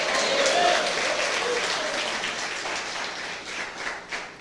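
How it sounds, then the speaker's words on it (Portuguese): Congregation applauding in a church service, a dense, steady wash of clapping from many hands that fills the space and slowly thins toward the end. "dê uma salva de palmas ao Senhor"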